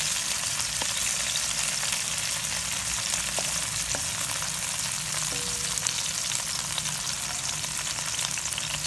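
Green chilies and green garlic frying in oil in a pan, a loud, steady, dense sizzle that runs unbroken throughout, with a few faint clicks and no voices.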